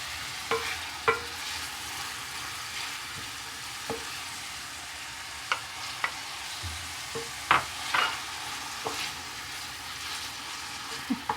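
A steady soft sizzle of onions frying in a pan, broken by occasional sharp clicks and scrapes from stirring.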